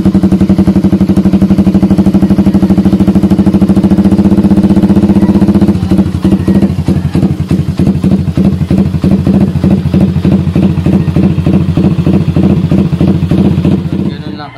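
A motorcycle fitted with an idle-rumble exhaust setup idles loudly and close, first as a smooth steady drone, then as an uneven, loping pop-pop rumble for the rest of the run.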